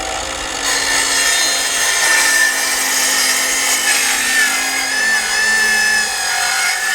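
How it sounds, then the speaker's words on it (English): A 2x2 wooden board being sawn to six-foot lengths, a steady close rasping cut running without pause for several seconds. "we're going to cut this 2x2 into 6 feet"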